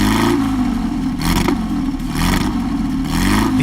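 A Porsche 550 Spider with an all-aluminum engine and four-speed manual transaxle revs hard, its loud, rasping note rising and falling in repeated pulls close by, with no talking.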